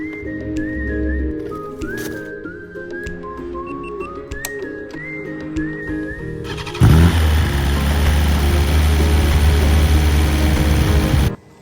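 A 2023 BMW S1000RR sport bike engine catches partway through and then runs at a loud, steady idle close by, after a stretch of whirring starter and mechanical noise.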